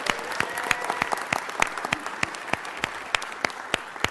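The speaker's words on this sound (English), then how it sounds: "Give him a round of applause." Applause rolls through the chamber at a city council meeting, a steady crowd clapping with sharp, loud individual claps popping out near the microphone at irregular moments.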